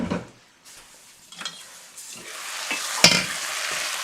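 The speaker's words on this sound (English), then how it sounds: "Oh, onions and apples just on their own." Onions and apples sizzle in a pan on a stovetop, a steady hiss that builds gradually, with a few soft stirring scrapes and one sharp utensil clink near the end.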